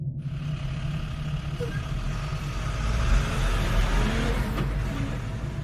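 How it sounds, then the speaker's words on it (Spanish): A heavy truck engine rumbles nearby with a deep, steady drone that swells as it revs up, with faint road noise around it. "escuchó el ruido de un motor de camión acelerando"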